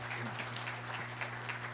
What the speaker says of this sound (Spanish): despidamos con un fuerte aplauso a Miguel Abreu.